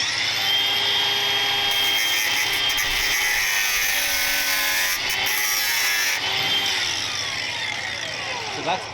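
A tool cuts through the head of a steel split pin in a workshop, giving a steady, loud grinding rasp that holds for about nine seconds with brief dips in intensity.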